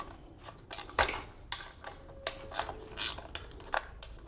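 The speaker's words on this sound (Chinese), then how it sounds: "我们就是拿这个13号的一个扳手，就是把它松开" A 13 mm wrench loosens a screw on the adjustment point of a wheelchair, giving a string of separate close ratcheting clicks and small metallic knocks, uneven in timing and fairly quiet.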